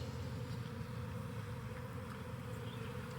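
Honey bees buzz in a dense, continuous drone around a beehive rescued from a fallen tree and relocated, a steady low hum close by with no talking.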